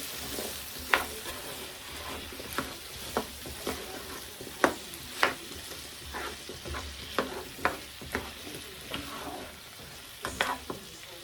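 Potatoes tossed with ranch seasoning sizzle in a single pan while a utensil stirs them, scraping and clacking at irregular intervals over a steady frying hiss.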